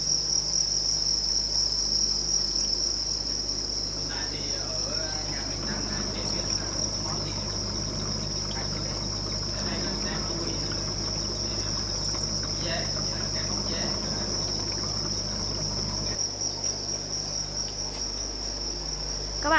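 Crickets on a cricket farm raising small crickets as bait, chirping in a dense, continuous, high-pitched trill that stays steady and close throughout.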